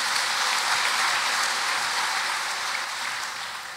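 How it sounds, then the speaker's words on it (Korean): Applause from a congregation at a worship service, a dense, steady roar of clapping from a large crowd that holds evenly and begins to fade near the end. "수고하신 분들께 크게 박수해 주시기 바랍니다"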